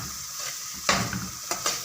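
Semolina roasting in desi ghee for halwa gives a steady soft sizzle with a couple of sharper stirring scrapes against the pan, close and continuous, no voices.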